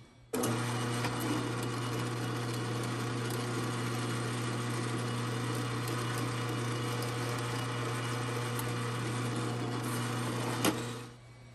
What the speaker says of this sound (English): On the aluminum bar, when you drill through, it kicks up a burr on the backside.